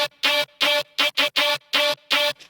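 A getter-style synth patch built in FM8 sounds in eight short, loud, bright, buzzy bursts with a clear pitched tone. They come in an uneven stuttering rhythm and play alone, with no voices.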